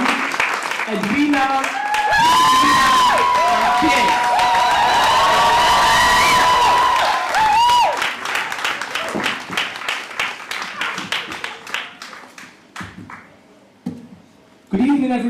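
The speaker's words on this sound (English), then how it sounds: "Now keep that round of applause going" Loud applause and cheering from an evening showcase audience, with whoops and shouts, swelling for several seconds then thinning into scattered claps and chatter, with a compère talking over and after it.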